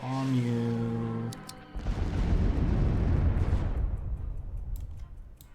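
A bomb explodes in the video game KARDS: a tonal sound breaks off into a loud, deep rumbling blast that rolls on for several seconds, with a few sharp crackles before it fades.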